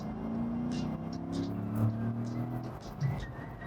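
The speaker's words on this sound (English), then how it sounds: "Aventador just out cruising" A Lamborghini Aventador cruises past with a low, steady engine drone that swells slightly and then eases, heard from inside another car over its own road and cabin noise.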